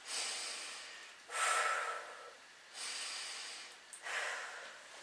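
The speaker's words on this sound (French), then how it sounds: "on va prendre 2 grandes respirations, en commençant en inspirant par le nez, puis en expirant par la bouche" Two deep breaths taken in through the nose and let out through the mouth, each a long close airy inhale followed by a hissing exhale, alone and clearly audible.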